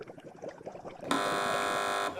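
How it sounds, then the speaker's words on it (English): A short stretch of muffled sound, then a loud, flat electronic game show buzzer blares for about a second before cutting off. "Fingers on buzzers"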